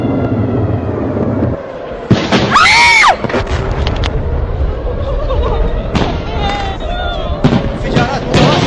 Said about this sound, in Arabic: انفجارات متواصلة عبد الرحمن وهي صواريخ